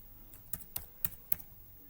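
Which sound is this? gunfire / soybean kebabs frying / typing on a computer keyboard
typing on a computer keyboard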